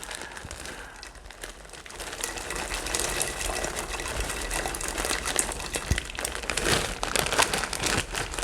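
Frozen corn pours from a 12-ounce plastic bag into a pot of cabbage soup, a steady rattling, crinkling rush of kernels that builds and continues close up for several seconds.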